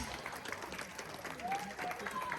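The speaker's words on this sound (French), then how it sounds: "Applaudissements très très forts, s'il vous plaît, pour vous tous et pour vous toutes" Party guests at a 60th and 50th birthday celebration applaud, a faint, distant patter of clapping with a few thin whistle-like tones drifting over it.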